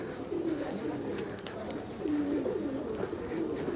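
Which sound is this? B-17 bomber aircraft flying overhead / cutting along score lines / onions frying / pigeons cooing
pigeons cooing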